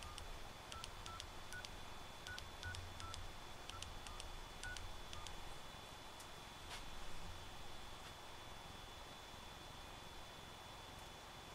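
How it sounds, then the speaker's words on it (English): A quick string of touch-tone beeps dials a number on an SB-22 field phone over a faint hiss, followed by quieter background noise. "Got dial tone, I'm going to dial."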